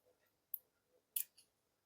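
Small scissors snip the thread tail off a beaded pearl earring, two or three crisp, faint clicks in an otherwise quiet room, with no talk.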